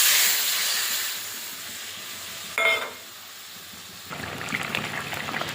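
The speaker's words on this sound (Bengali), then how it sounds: "ঝোলটা ফুটে গেছে।" Mustard-poppy fish curry gravy bubbling and hissing in a pan on the stove, a faint steady simmer with a short louder burst midway and a rougher boil toward the end.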